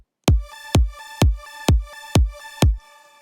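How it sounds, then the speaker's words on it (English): Super saw synth with its arpeggiator on the default setting plays six evenly spaced, bright, plucky stabs with bass-heavy attacks that decay quickly, loud and alone with no talking. "if you turn on the arpeggiator, it should sound like this"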